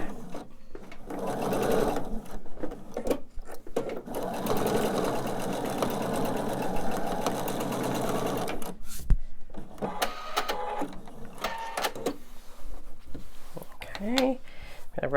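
A sewing machine stitches a quilt seam in a long steady run of about seven seconds, then stops; shorter bursts and clicks follow while someone talks nearby.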